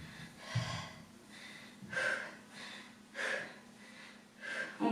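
People breathe out hard in rhythmic bursts during a circuit training session, with several forceful exhales and gasps spaced about a second apart, faint and close.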